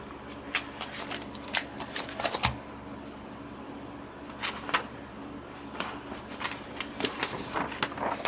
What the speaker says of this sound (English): This is actually really cool pearlized vellum paper in like a periwinkle color.